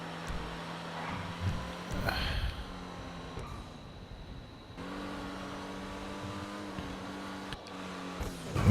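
Race cars in Grand Theft Auto Online at Grotti Circuit, engines droning and revving steadily at close range, with a brief surge of acceleration and faint commentary underneath.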